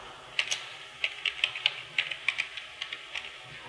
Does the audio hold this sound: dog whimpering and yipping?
no